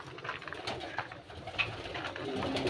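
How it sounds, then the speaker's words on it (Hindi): Pigeons coo softly in a rooftop pigeon house, several low murmuring calls scattered through steady background noise, with faint voices nearby. "कबूतर अच्छा है, नस्ल ला रहा।"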